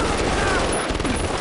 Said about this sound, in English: He got shot.